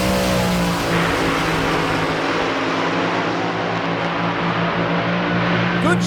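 An AA/Fuel nostalgia dragster at an NHRA Hot Rod Heritage Series drag race roars loud and steady, a continuous harsh engine blare with a sustained low drone that holds throughout.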